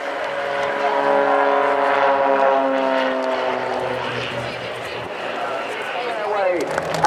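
Display aircraft at the Bournemouth Air Festival roar past in a steady, loud propeller-engine drone with a shifting pitch that sweeps downward toward the end as they pass, with crowd or commentary sounds faintly underneath.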